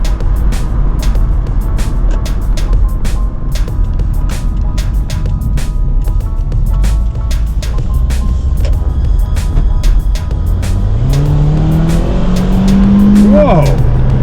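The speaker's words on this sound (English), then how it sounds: "We're gonna have to give it some gas and see." A Kia Spectra5 under hard acceleration from inside the cabin: steady engine drone with rapid clicks and knocks, then a rising engine whine climbing sharply in pitch near the end.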